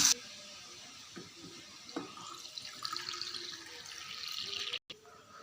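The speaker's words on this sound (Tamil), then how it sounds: "இப்போ இதோட தண்ணி சேர்க்கப்படும் ரெண்டு கிளாஸ் தண்ணி" Water splashes and trickles into a pan of sautéed ingredients for several seconds while making Maggi noodles, a soft, close pouring sound with small clinks near the start.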